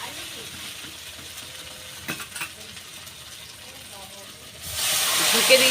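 Gravy poured into a hot frying pan for a ridge gourd, potato and prawn curry. Quiet frying hiss gives way near the end to a sudden loud, sustained sizzle.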